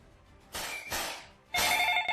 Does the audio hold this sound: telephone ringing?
yes